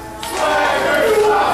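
Wrestling crowd at an APW Midway Championship match between Mike Daniels and Flash Harris, a loud rising crowd chant in unison, rhythmic and surging over about a second and a half.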